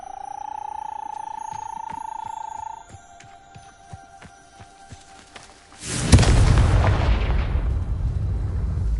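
The Confringo blasting spell in Hogwarts Legacy erupts after a held tone and a quieter stretch, a sudden loud explosion that sets off a long rumbling, crackling decay, with no talking.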